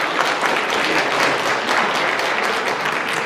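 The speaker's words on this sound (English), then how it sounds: "Please give a round of applause." Applause from an audience at a District Advisory Council community meeting, a dense, steady wash of many hands clapping at once, loud and sustained throughout with no talk over it.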